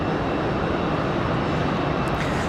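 A Boeing 757 arriving at Raleigh-Durham International Airport on a hot afternoon produces a steady, loud roar of jet engines, a constant broadband rush with no voices.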